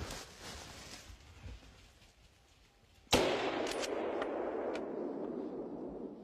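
A single sharp rifle shot cracks out during a wild boar hunt in a forest, loud and sudden after quieter ambience, followed by a lingering echo and faint rustling.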